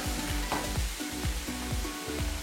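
Chicken deep frying in hot oil for traditional Thalassery chicken biryani, a dense continuous sizzle and bubble with repeated rhythmic stirring strokes through the oil, close and fairly loud.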